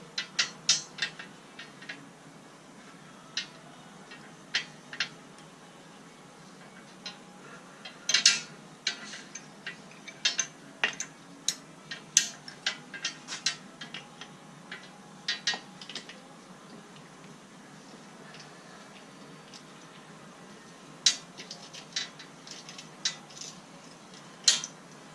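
Ratchet clicking as a wrench drives the 15 mm bolt for the bottom bump stop on a Jeep during a SumoSprings install, coming in irregular bursts of sharp ticks with short pauses, fairly close and moderately loud, with no talking.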